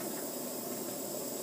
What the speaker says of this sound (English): And there we have it. It's now boiling